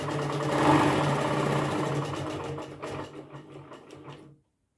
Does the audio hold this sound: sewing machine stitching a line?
yes